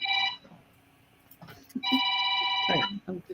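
A telephone rings in two electronic bursts, a short one at the start and a longer one a second later, loud and near, with a few spoken words between and after the rings.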